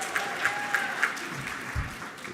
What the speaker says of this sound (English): It doesn't deserve that kind of applause yet